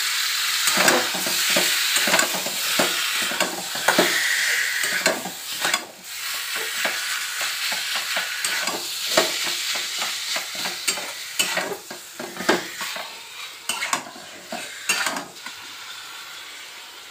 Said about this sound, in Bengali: এবারে চিকেনটা দিয়ে আর একটুখানি কষবো